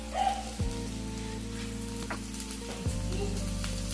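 Chopped carrot, capsicum and beans frying in a pan, a steady close sizzle with a couple of brief stirring scrapes, no voices.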